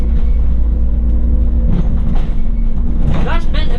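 Steady low road rumble inside a moving vehicle, with a few brief bumps and rattles as it rolls over tram tracks; some faint voices near the end.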